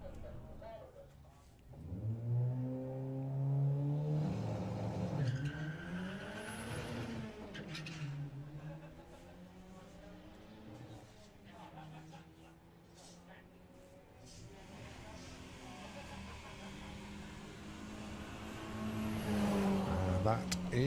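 A BMW and a VW Passat drag race down the strip at Santa Pod, their engines rising and falling in pitch as they accelerate away, moderately distant, under continuous commentary.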